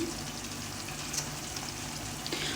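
Chicken vegetable pasta tumbles into a hot pan and is stirred through, giving a steady close sizzle with soft scraping and stirring sounds and no talking.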